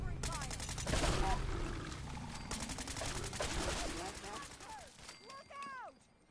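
Rapid, overlapping gunfire from Fallout 4's Far Harbor expansion rattles in steady bursts for several seconds, with shouting voices and creature cries mixed in, then tapers off.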